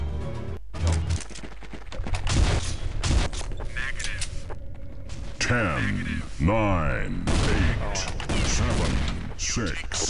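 Heavy-calibre weapon gunfire in the game Counter Strike Nexon: Zombies, with rapid bursts and sustained volleys of loud shots, mechanical clanks and booms, while a person talks over the action throughout.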